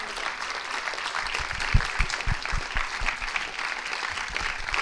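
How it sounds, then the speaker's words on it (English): Audience applauding two film directors as they are called on stage at a discussion event, dense clapping from many people with a few close, sharp individual claps standing out. "please have a great applause for Ivana Mladenović and Olivia Bassemir"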